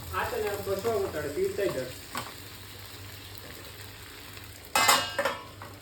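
Potatoes fry in a pan with a constant background sizzle, while people talk in the opening seconds and a loud metallic stirring clatter comes near the end.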